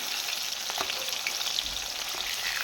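Pieces of rohu fish fry lightly in a pan of oil, a continuous close hissing sizzle with small pops and crackles throughout, no talking.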